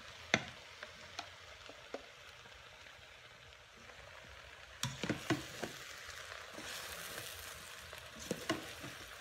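Ginger mixture hitting hot chicken stir fry in a Ninja Foodi, a steady sizzle and fry with scattered clinks and scrapes of stirring that grow busier in the second half.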